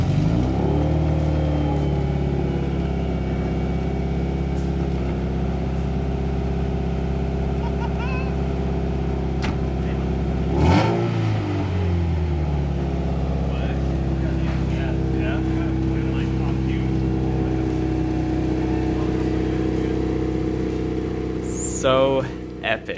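A Toyota MR2 SW20 with a Beams engine swap idles with a deep, steady exhaust drone, then blips into a sharp rev partway through before settling back, loud and close, with voices faintly nearby.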